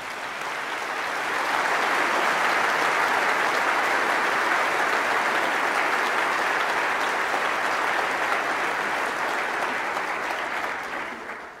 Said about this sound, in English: Let's give this first set a round of applause.